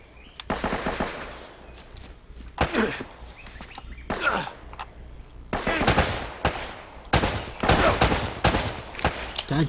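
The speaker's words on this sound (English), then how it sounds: "I'm shooting at him." Gunfire rattles through a shootout in the video game Uncharted: Drake's Fortune, with loud bursts of automatic fire and single shots, near and sharp, separated by brief lulls and scuffling sounds.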